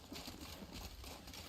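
A horse's hooves clip-clop in a steady walking rhythm in the video game The Witcher 3, close and fairly quiet, with no talking.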